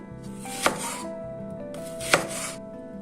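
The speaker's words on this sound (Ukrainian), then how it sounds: "Нарізаємо дві середні цибулини півкільцями." A knife chops onions into half rings on a board, giving two loud, crisp strikes about a second and a half apart over a steady hum, with no voices.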